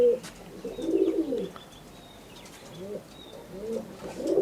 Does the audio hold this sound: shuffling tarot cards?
no